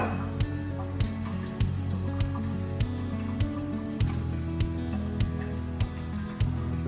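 Water dripping and draining from chilli peppers held in a normal stainless steel strainer, with steady wet trickling and a series of soft drips and small squishy thuds, close and moderately quiet, no talking.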